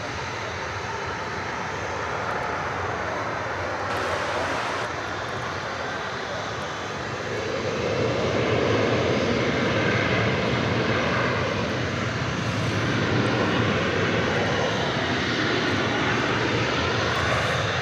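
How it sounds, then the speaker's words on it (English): A Japan Airlines Boeing 777 airliner in OneWorld livery roars past at an airport, its jet engine noise a broad steady rush that swells slightly midway, heard from a moderate distance with no talking. "we've got a 777 with the OneWorld livery"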